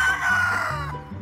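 A rooster on a farm, chased by people, gives a loud close-up cluck and crowing call, a strained tonal squawk that sags and breaks up over about a second, with no talking over it.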